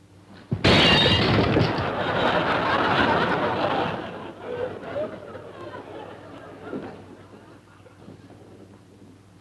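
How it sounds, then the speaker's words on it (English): Glass shatters suddenly and loudly with a bright crash, followed by several seconds of tinkling, scattering debris that gradually thins out, while people chatter and chuckle in the background. "Did I hear breaking glass?"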